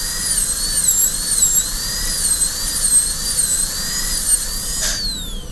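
A dental burr reducing an upper canine tooth for a porcelain-fused-to-metal crown, a loud, high-pitched whine wavering steadily in pitch, with a brief sharper burst near the end.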